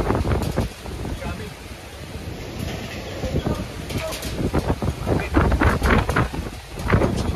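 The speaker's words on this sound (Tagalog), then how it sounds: "walang tigil yung hangin, dire-diretso" Strong, nonstop gusting wind by the sea roars and buffets the microphone, with surging noise rising and falling and faint talk underneath.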